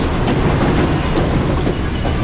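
The Tezgam passenger train on the Multan–Lahore line rumbles along at speed with a steady, dense roar and faint rhythmic wheel clacks, heard loud from inside the carriage.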